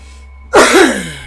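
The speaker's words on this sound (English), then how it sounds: "stupid cough" A single sharp, loud cough bursts out close to the microphone, then decays over about half a second into quiet.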